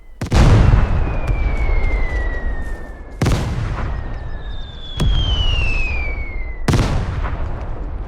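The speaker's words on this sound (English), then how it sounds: "Somebody in this gunfight means business." Gunfire in the video game Vigor: four sharp, loud shots spaced a couple of seconds apart, each followed by a ringing tail and a high whistling whine.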